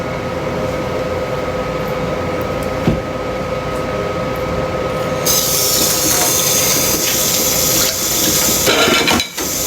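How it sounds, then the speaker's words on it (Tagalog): Tap water runs steadily while dishes are washed, a loud continuous rushing hiss that grows brighter and stronger partway through, with faint clinks near the end. "Naghuhugas lang ako."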